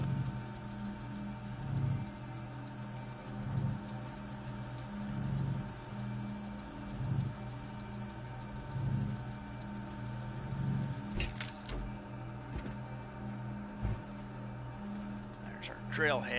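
A printer in the video game Astroneer hums and ticks in a regular, repeating rhythm while printing a drill head, with brief electronic chirps near the end.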